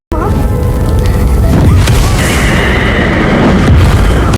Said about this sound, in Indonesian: Charlie kemudian menciptakan ledakan api yang membuat John terpental serta sekaligus membuat rumah mereka